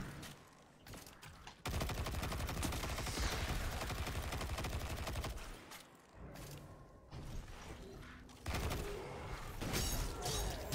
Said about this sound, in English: when you kill stuff, see the little mini rockets start firing